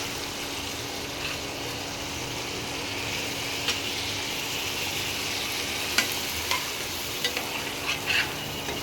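Masala cooks down in oil in a pan, a continuous close sizzle with scraping stir strokes and a few sharper clicks of the spoon toward the end.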